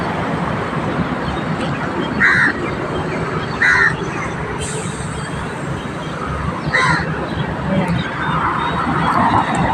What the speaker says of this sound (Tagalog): maingay na ibon. Yung itim, maingay yan eh.